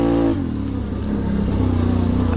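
A 2022 Can-Am Renegade 1000 XXC twin-cylinder automatic ATV pulls through mud with a loud, close, continuous engine drone. The pitch dips slightly after a brief opening burst, then holds a steady throaty roar.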